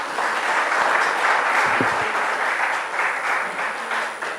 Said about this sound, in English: Let's again give him a huge round of applause.